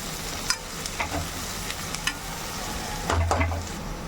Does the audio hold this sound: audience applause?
no